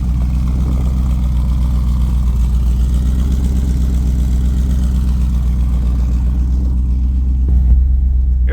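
Built, supercharged Ford SVT Lightning pickup engine running, a heavy low rumbling drone held steady and loud throughout, with no talking over it.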